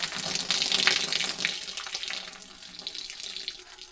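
Water drains out of the wet end of a transfer pump, splashing and trickling continuously, loudest early on and then easing to a thinner, steady flow.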